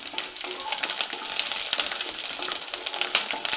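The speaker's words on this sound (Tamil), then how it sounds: "சேர்த்து பூண்டை லைட்டாக வதக்கிக்கோங்க" Peeled garlic frying in sesame oil gives a steady bright sizzle with crackling pops and soft stirring scrapes throughout, close and fairly loud with no voices.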